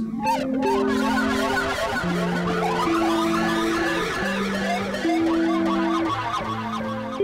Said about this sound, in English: use your nail as well. And what you can do is use your wah at the same time